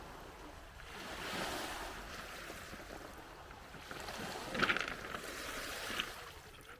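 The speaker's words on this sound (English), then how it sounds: "Listen to these rocks." Waves wash over a pebble beach on a northern lakeshore, with soft surges, rattling stones and a brighter clattering burst midway, heard close against wind noise.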